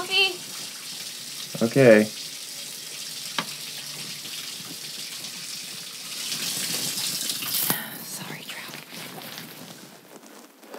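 Water runs from a tap in a home kitchen to fill a container for coffee, a faint gushing stream rising for a few seconds after a short spoken reply, with a quiet room around it.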